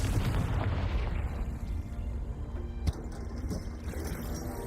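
A Confringo fire curse explosion in the video game Hogwarts Legacy, a heavy rumbling blast that fades, followed by a sharp crack near the middle and lingering lower rumbles.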